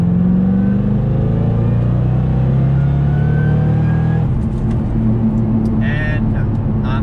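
A Shelby GT500 accelerates hard in third gear, its engine roaring loud and steady from inside the cabin with a rising drone, while someone talks over it.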